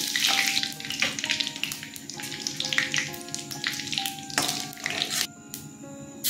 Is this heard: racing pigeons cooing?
no